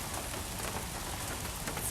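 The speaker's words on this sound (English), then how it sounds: "now that it's actually raining, it might be cooler than that" Steady rain falls on surfaces during a rainy Florida morning at a big cat rescue, a continuous dense patter with no talk.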